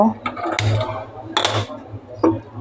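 A wok is set onto a gas stove in a home kitchen, giving a few sharp metallic clanks and scrapes spread across a couple of seconds over a steady low hum.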